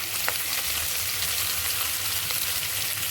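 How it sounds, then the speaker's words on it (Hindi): Garlic and mushrooms sizzle steadily in a hot pan, a dense, even crackle close up, with no voices. "और लहसुन भी साथ में चला गया, तो दोनों को साथ में ही भूनेंगे।"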